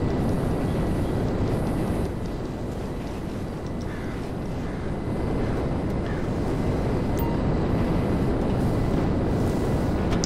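A steady, loud roar from an airplane in flight in the GTA V Online multiplayer game, a broad drone that holds constant throughout with no talking.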